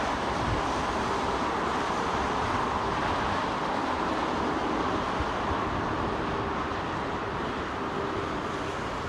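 Strong wind buffets the microphone at London Heathrow Airport, a dense, unbroken roar of gusty noise filling the whole stretch without pause.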